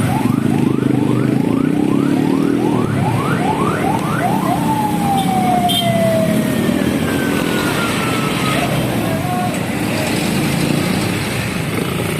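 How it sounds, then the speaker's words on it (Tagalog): A loud, rapid wailing ambulance siren sweeps up and down repeatedly, then stretches into long rising wails over heavy rumbling traffic noise, arriving at a motorcycle accident in Parañaque. "ayan na po ngayon na po dumating yung ambulansya"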